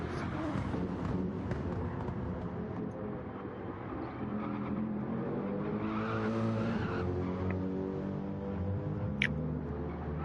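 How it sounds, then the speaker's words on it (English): A race car at the Bathurst 12 Hour spins out while trying to overtake, shown on replay: engines drone steadily and tyres squeal as the car skids, with other cars roaring close by. "Charbala spun out trying to overtake"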